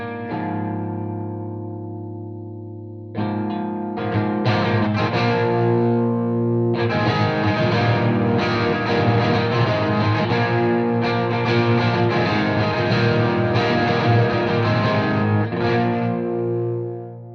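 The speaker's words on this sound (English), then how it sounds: "if I switch to the P90 mode on the guitar, kick on the Boss Super Overdrive pedal, set kind of conservatively, and work on the guitar's volume control" Electric guitar switched to P90 pickup mode and driven through a Boss Super Overdrive pedal set conservatively, guitar volume rolled back on a Voodoo amp: a sustained chord rings out, then driven riffing follows, loud and steady with no talking.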